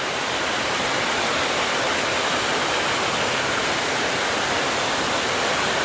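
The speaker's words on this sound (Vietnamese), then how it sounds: "Chỗ làng của Blitz đã có trời mưa rồi nhé mọi người." Heavy rain pours steadily over a village in a coffee-growing area, a dense, constant roaring hiss that fills the whole stretch with no break and no voices.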